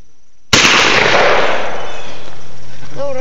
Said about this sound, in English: Shoot one more target and you guys win.